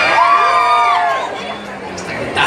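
An audience at a comic convention show in Acapulco bursts into loud shouting and cheering, with high excited voices peaking early and then tapering into scattered chatter.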